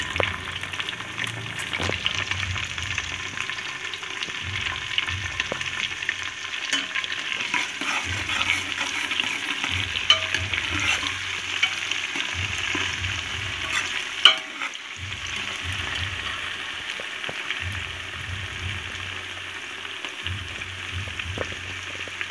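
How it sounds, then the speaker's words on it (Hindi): Curry leaves fry and get stirred in hot oil in a pan while making a rice dish, with a steady sizzle running throughout and repeated stirring scrapes and knocks, fairly close, with no talking. "अब जो हमने कड़ी पत्ता लिया है वो इसमें डाल देना है अच्छी तरह वो इससे में भुन जाएगा तो इसको हम अच्छी तरह फ्राई कर लेते हैं"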